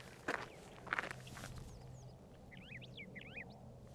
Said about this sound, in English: Listen to them chirping away.